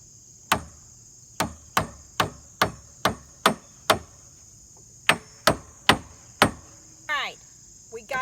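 Sharp metallic hammer strikes ring out in a steady series of about a dozen blows as tubes are tapped into a deck railing, with a short pause midway, over a constant insect-like hum.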